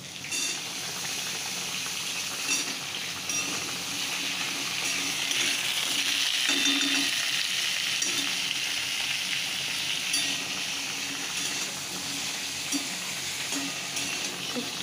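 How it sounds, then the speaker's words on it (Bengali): A pot of sour shukto curry made with kolabin bubbles on the stove, a steady close-up simmering and sizzling that continues evenly with no talking. "শুক্তো একদম টক দিয়ে ফুটছে"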